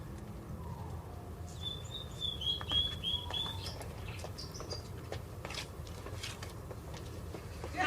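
A pet bird calling indoors, a few faint thin chirps and a short whistled note rising over a steady low background hum, distant and quiet with no speech.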